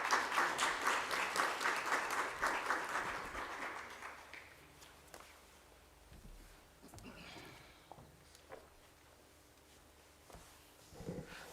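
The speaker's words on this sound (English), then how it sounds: "May we give her a resounding round of applause." A school debate competition crowd claps loudly for several seconds, then the applause fades to scattered claps and faint movement.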